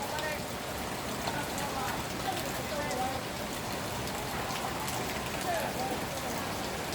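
Steady rain falls in a continuous soft hiss of drops on surfaces, fairly faint and even throughout, with people talking quietly underneath.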